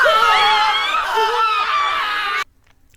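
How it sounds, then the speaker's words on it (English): Shrill, wavering unearthly screams tied to the Maryland GoatMan legend ring out loud and close for about two seconds, then stop abruptly into near silence. "unearthly screams."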